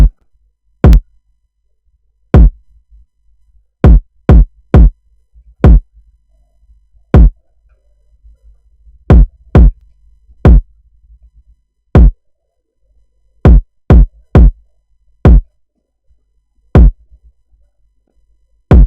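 Punchy kick drum hits played alone in a syncopated pattern, some single thumps and quick double and triple bursts, separated by silence.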